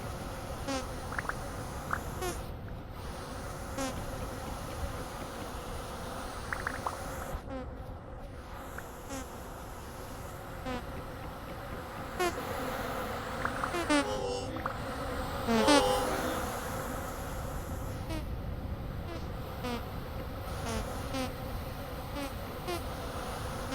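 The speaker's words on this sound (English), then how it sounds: "Come on, silly bees." Bees in the survival video game Vintage Story give off a steady, close insect buzz that drones on for the whole stretch, with a few faint scattered clicks and rustles and hardly any talk.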